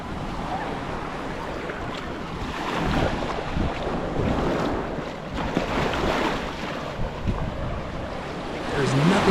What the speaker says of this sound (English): You could play in these waves for hours.